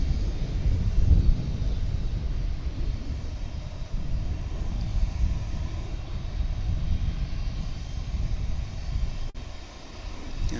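A Japan Airlines Boeing 787 Dreamliner departs Dallas Fort Worth, a loud low engine rumble that swells and eases with some wind buffeting on the microphone, with no talk over it.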